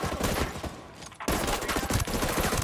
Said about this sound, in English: I'm taking suppressor off since I know we're here. I'm going to see what this gun sounds like.